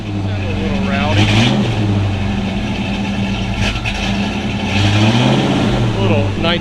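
A 1983 Ford Mustang's carbureted engine runs rough and rowdy nearby, rising in a couple of revs over its idle, while people talk over it.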